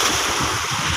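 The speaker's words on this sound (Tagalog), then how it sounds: "lakas ng alon." Strong waves churning in deep, windy water, a loud, close rush of surf mixed with heavy wind buffeting the microphone, filling the whole brief moment.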